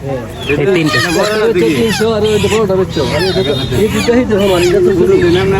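Native ducks and chickens call at a village bazaar in Poradia, Belab, Narsingdi, with bleat-like squawks and clucks rising under and between nearby voices of people talking.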